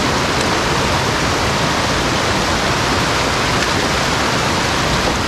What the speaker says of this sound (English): Oh, I just love these alpine creeks. Super crystal clear water.